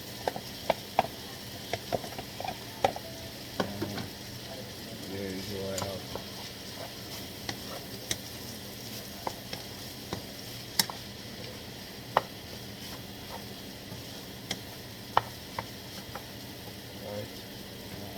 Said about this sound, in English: So I'm gonna go ahead and add the rice guys.